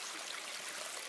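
Water flowing in the Ocean Craft VR video game, a steady soft hiss and trickle heard alone at low volume.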